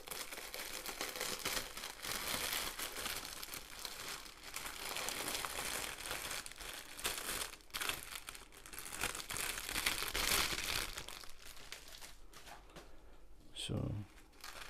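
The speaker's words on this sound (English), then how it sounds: "I'll try and get the rustling part done as fast as I can." Crinkling plastic bag from a Paint With Diamonds kit being opened and handled, a steady close-up rustle running almost throughout with a brief louder crackle near the end.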